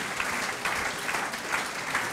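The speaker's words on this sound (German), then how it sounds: "Großen Applaus." Applause from a seated audience at a German theatre foyer talk, steady dense clapping held at an even level for about two seconds with no voices over it.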